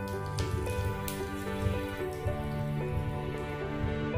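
Hot oil tempered with mustard seeds and curry leaves sizzles as it goes into a chutney, a dense, crackling hiss with scattered sharp pops throughout, close and fairly loud with no talking.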